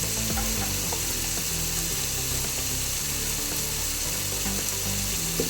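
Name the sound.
stirring spices with chilli powder and flakes in a frying pan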